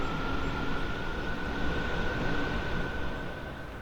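A DB BR 430 S-Bahn electric train on the Frankfurt route in Train Sim World 5 hums along steadily, a continuous rumbling rail drone with a faint whine running through it, no voices.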